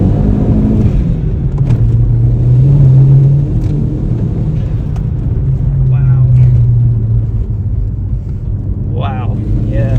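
A 300 bhp Seat Leon Cupra Mk1 accelerates hard in second gear with traction control off. A deep engine rumble rises in pitch, heard from inside the car, with people talking over it.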